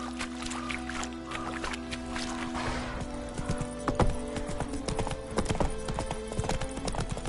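Hooves of Roach, Geralt's horse in The Witcher 3, clip-clop in a steady walking rhythm, fairly close, with a soft outdoor ambience beneath.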